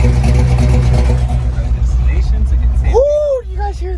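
A loud truck engine with a choppy cam idles roughly with a lopey, uneven chop, up close and rumbling, before revving briefly.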